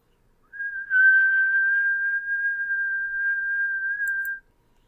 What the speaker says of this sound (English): This time I'm going to try to whistle.